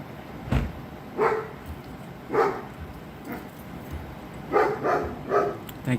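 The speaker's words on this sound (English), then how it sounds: "That's a dog inside of the property." A dog barks inside a property at an assisted living home during a police standoff, several scattered muffled barks at a distance, some in quick pairs, over a faint background hum.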